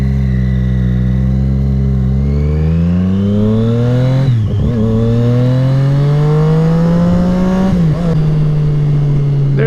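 A 2013 Triumph Daytona 675R supersport pulls away in first gear, its engine note rising loud and close through two upshifts with brief dips between, a continuous high-revving roar.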